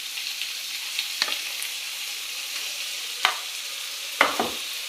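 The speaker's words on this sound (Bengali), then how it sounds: "ডিমের কারি করব, টমেটো দিয়ে দিচ্ছি। টমেটো একটু ভাজা ভাজা হবে।" Tomatoes fry with onions in oil for an egg curry, a soft continuous sizzle broken by a few sharp scraping stirs of a spatula, close and fairly quiet.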